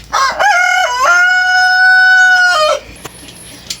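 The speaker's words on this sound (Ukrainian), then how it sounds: "Оце такі пришиблені якісь курчата чи петухи." Rooster crowing up close in a backyard poultry pen, one long loud drawn-out cock-a-doodle-doo followed by faint clucks and rustling.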